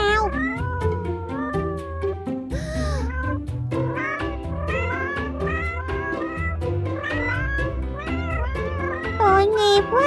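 A cat meows repeatedly in a run of close, loud, wavering cries, some drawn out like a caterwaul, while a person talks over it in Vietnamese throughout.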